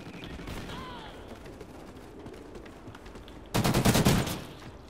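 A rapid burst of automatic gunfire in Call of Duty Ghosts rings out near the end, loud and close, after a stretch of quieter background game noise.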